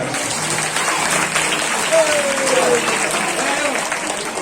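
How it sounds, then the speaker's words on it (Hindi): A seated audience at a multi-day religious katha gathering held in a small marriage hall bursts into applause, a broad wash of clapping that swells briefly mid-clip, with a voice over a speaker system talking through it. "भगवान वाटिका वालों के लिए जोरदार सभी ताली बजाएं।"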